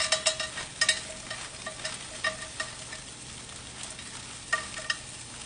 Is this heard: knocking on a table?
no